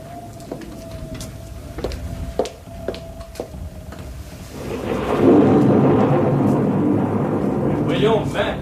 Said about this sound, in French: Voyons, mais le tonnerre, c'est pas dangereux.